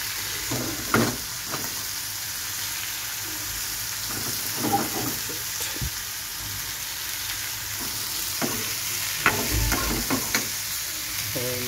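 Beans and other ingredients for Chinese chicken soup fry in a pan with a steady, soft sizzle, broken by occasional scrapes and clatters of stirring.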